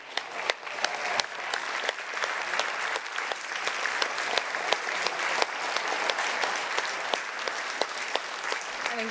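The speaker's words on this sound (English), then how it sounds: "Let's give him another round of applause." Sustained audience applause at a gala awards presentation dinner, many hands clapping in a dense, steady roar with sharp individual claps standing out, loud and continuous throughout.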